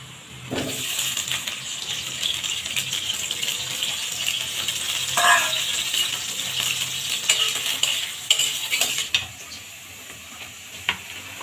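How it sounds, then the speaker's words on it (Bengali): Potatoes sizzle and fry in hot oil in a pan, a constant crackling hiss broken by a few sharp clinks and stirring scrapes, close and fairly loud with no voices. "এখন দিয়ে দেবো তেল। আলুটা ভেজে নিব।"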